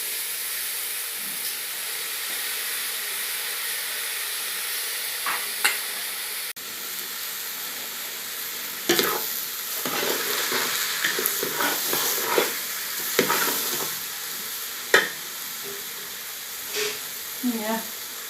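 Rice stirred and fried in a pan for a Krishna Janmashtami dish gives a continuous hiss and sizzle, broken by scraping stir strokes and clatters of a utensil, with a voice speaking intermittently over the cooking.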